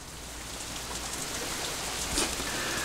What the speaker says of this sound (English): As we approach the girls' dormitory, it starts to rain again.